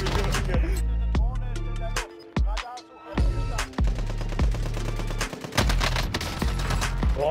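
EM2 rifle gunfire in a video game, rapid bursts of loud, close shots with short pauses between volleys, repeated throughout.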